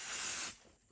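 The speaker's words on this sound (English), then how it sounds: "I'm just going to very gently spray this." Fabric adhesive gently sprayed onto an embroidery piece: a short, soft hiss of aerosol that cuts off abruptly, faint and close.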